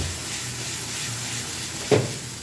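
Chicken cooking in ghee in a pan: a soft steady sizzle close by, with one brief scrape of a stirring utensil near the end, and no talking.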